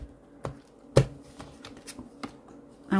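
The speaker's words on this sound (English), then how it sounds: "3 more shuffles." Soft, quiet card shuffling with several brisk riffles and light taps, close by and irregular in rhythm, with no talking.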